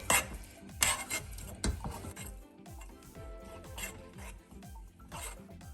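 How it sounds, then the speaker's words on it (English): A utensil stirs chocolate melts and peanut butter in a saucepan, making quiet, close scraping and clinking strokes against the metal in an irregular rhythm, with no talking. "add our chocolate melts into the saucepan and our peanut butter as well. And then we're going to stir it"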